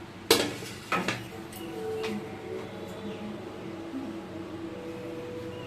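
Eggs being cut against a metal plate at home, two sharp clinks of metal near the start followed by quieter scraping and tapping over a steady background hum.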